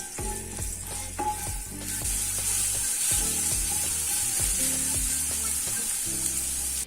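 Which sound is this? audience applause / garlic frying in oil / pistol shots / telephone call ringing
garlic frying in oil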